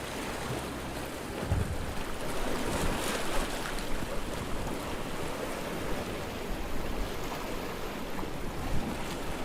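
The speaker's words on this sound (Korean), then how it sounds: "이 파도 소리가 가장 잘 들리는 곳에 자리 잡고" Ocean waves wash steadily against the shore on Jeju Island in autumn, a continuous broad rushing roar with gentle swells and faint wind, no voices.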